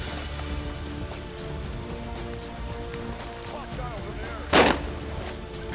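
Gunfire rattles through a Jagged Alliance battle, with a steady run of shots under a sharp, loud burst near the end, as a voice talks over the combat.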